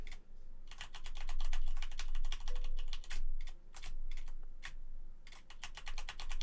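Computer keyboard typing in bursts, rapid clattering keystrokes close to the mic with short pauses between runs, fairly quiet overall and with no talking.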